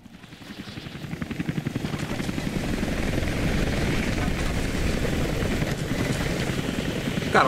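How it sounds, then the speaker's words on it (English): A helicopter in the video game Rise of the Tomb Raider thumps steadily with fast rotor chopping, growing louder over the first few seconds and then holding a constant roar. "Got a whole ass helicopter out here."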